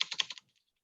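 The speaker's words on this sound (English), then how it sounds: "And then type in here" Quick burst of five or six keystrokes on a computer keyboard, close and crisp, then silence.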